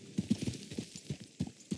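Rhythmic clip-clop of horse hooves in the video game Red Dead Redemption 2, several steady thuds close by at a walking pace, with no voices.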